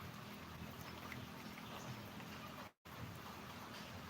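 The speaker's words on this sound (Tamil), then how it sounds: "இந்த மழை பெய்யுது லேஸ் தூத்தல்" Light drizzle falling steadily, a soft continuous hiss of fine rain on surfaces, nearby and even in level, broken by one very brief dropout near the end; no one speaks.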